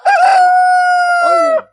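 A rooster crows once at a roadside market stall, a single loud, sustained cock-a-doodle-doo held for over a second before breaking off, close by and clear of any talk.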